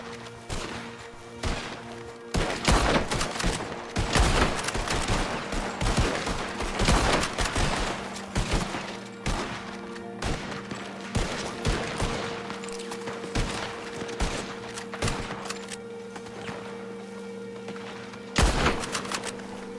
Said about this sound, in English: Shoot the one in the front.